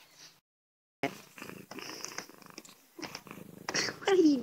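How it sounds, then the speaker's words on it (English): A playful cat purrs and bites during play, with a soft rumbling purr and chewing-like noises close to the microphone, while a person speaks and reacts nearby. "Okay, the other cat keeps biting me too. He's playing."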